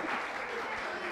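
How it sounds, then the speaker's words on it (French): Soft, continuous audience applause at a live awards-style show, a low, even wash of many hands clapping at a distance with some crowd murmur mixed in. "On l'applaudit quand même, hein?"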